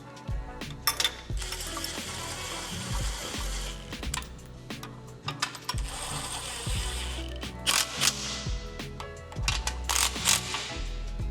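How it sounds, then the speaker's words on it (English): A socket ratchet spins bolts into the factory mounting holes of a skid plate on a 2024 or later Ford Ranger, producing close, rapid clicking bursts separated by brief pauses and metallic clinks. "have an impact or a socket so that you can spin these into the factory holes here"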